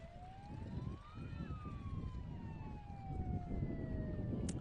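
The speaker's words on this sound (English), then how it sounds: "Did you hear the siren?" At a high school football game, Davis vs Lexington, a siren is played from the stands, its pitch rising and then sliding slowly down, heard at a moderate distance over crowd noise.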